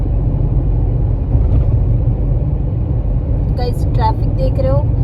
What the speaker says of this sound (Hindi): ट्रैफिक देख रहे हो